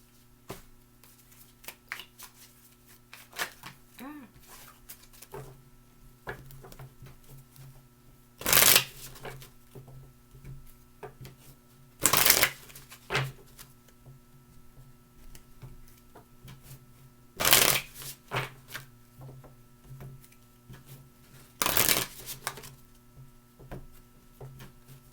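Tarot cards being moved aside and shuffled by hand, with four loud, close riffle bursts spaced several seconds apart and soft card slides and taps between them.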